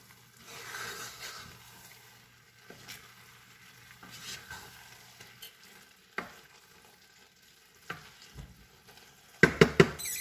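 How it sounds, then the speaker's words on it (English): A spoon stirs Swahili pilau in a cooking pot, giving faint scraping and soft knocks spaced a few seconds apart over a low sizzle, with a cluster of louder clanks at the end. "Oh, I'm going to be stirring it."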